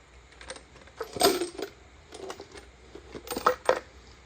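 Metal sockets clink and rattle inside a Skippy peanut butter container from a vintage Craftsman toolbox, a few close, sharp jangling bursts spread over several seconds.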